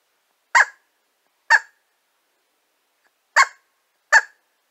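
A Flextone Ol' Bushytail squirrel call sounds four short, sharp bark notes, two close together, a pause, then two more, loud and close with silence between.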